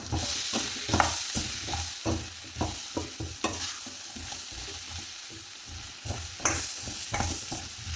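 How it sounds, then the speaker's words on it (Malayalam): Drumstick and potato pieces sautéed in a pan for a curry, with rhythmic spatula scrapes and stirs over a constant sizzle, close and fairly loud, and no voices. "ഒന്ന് വഴറ്റി കൊടുക്കാം"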